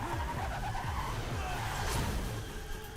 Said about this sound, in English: Done crashed my knockoff Mustang.